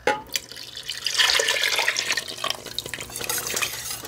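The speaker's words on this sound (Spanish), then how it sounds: "Una vez agregamos todos nuestros líquidos" Cream, whole milk and clam juice being poured into a pot for New England clam chowder, a steady splashing liquid stream with a few drips, close and moderately loud, with no talking.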